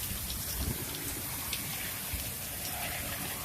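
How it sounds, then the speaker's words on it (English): Heavy rain pours steadily outside an open door in Oklahoma, a dense continuous hiss of drops striking the ground with no voices over it. "it is raining really hard out there"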